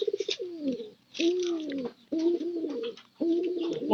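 Domestic pigeons coo in a loft where two pairs are kept, four loud close bursts of throaty, rolling coos separated by brief pauses, with faint wing or scratching noises at the start.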